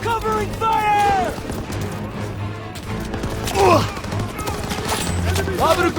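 Covering gunfire rattles through a World War II-style shooter game battle, with dense bursts of rifle and machine-gun fire amid rumbling combat noise while soldiers shout over it.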